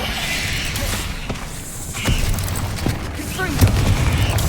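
A Bombarda spell detonates in Hogwarts Legacy, a deep boom with whooshing energy and rumbling debris over several seconds, amid continuous game ambience.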